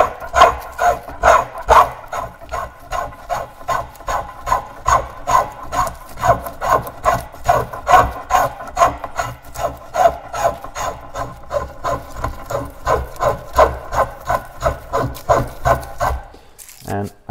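Hand plane shaving wood while a paddle is shaped, in short rough strokes: a steady rasping rhythm of about three strokes a second runs throughout, close and fairly loud, then stops at the end.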